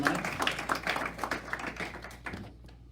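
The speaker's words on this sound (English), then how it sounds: "give yourselves a round of applause" Audience applause rings out in a room at an entrepreneur coffee gathering, a steady patter of many hands clapping for about two and a half seconds before quickly tapering off.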